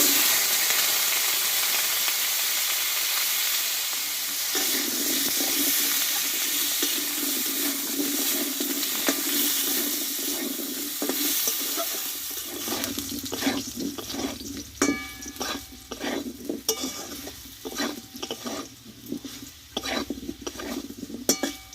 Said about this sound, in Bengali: এবার এই তেলেই আমি আলুটাকে কষে নেব